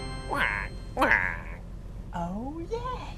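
A duck quacks in a few short, nasal bursts, fairly close and clear, spaced across a few seconds.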